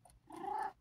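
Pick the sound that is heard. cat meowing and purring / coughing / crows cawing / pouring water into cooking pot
cat meowing and purring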